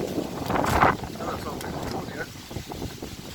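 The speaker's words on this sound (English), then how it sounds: "So, windy." A strong gust of wind during a hike, booming across the microphone as a loud rush that swells early and then eases into steady blustering, with speech heard faintly in the background.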